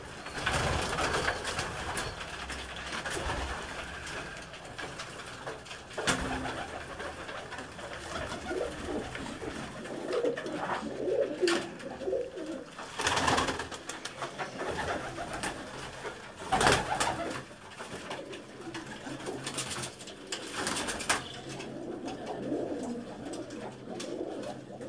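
Pigeons coo repeatedly in soft, rolling calls, several birds overlapping against steady outdoor background noise.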